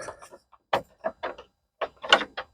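Rear light unit of a Vauxhall Corsa D being twisted free and popping out of the body: a series of short plastic clicks, knocks and rattles close by, bunched into two clusters with a pause between, no talk.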